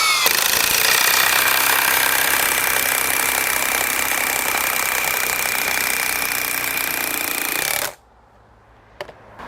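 A Milwaukee M18 cordless tool on a Forge battery drives fasteners into treated pine, making a loud, continuous, rattling mechanical drone for about eight seconds before stopping abruptly. A few faint clicks follow in the quiet.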